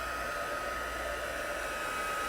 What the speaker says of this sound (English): I'm bringing in my heat tool here.